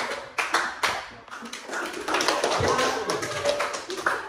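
Hand clapping in a counted classroom clapping game, a string of crisp separate claps in a rhythmic pattern, mixed with overlapping children's and adult voices.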